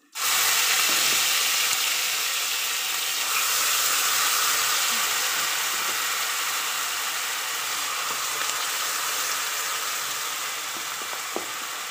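Loud, steady sizzle and hiss of chopped onions and asafoetida frying in hot oil with whole spices in a pan for Kashmiri rajma, continuous throughout with faint scrapes of stirring.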